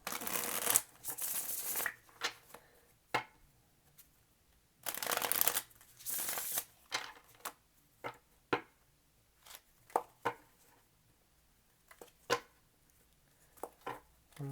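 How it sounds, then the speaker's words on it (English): A deck of tarot cards is shuffled repeatedly at close range, giving bursts of crisp riffling and soft flicking taps separated by short pauses, with no talking. "One more shuffle."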